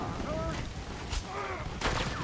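Gunfire from the Red Dead Redemption video game cracks out in a few sharp bursts, about two distinct shots over a noisy, rumbling background.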